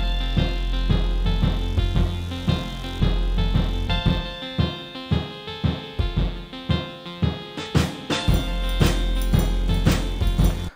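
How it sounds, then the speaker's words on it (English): Akai MPC 1000 sequencing a Korg Minilogue and a bass synth: sustained synth chords over a deep bass line and a regular drum pulse, growing busier toward the end, loud with no speech. "So the MPC 1000 is also sequencing the Minilog and this bass synth"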